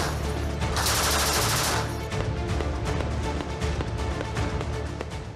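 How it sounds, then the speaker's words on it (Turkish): Artillery fire from military positions on Kato Mountain near Beytüşşebap during a security operation: a loud booming blast, then a dense rumbling barrage of rapid impacts and rolling echoes continuing throughout. "Daha sonra top atışları başlıyor"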